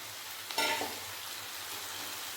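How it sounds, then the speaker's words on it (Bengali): Fried potatoes sauté with bottle gourd in a pan in a dry Bengali curry, producing a continuous close sizzle with a brief louder burst of stirring and frying partway through. "আলুটা ভালোভাবে লাউয়ের সাথে কষিয়ে নেব"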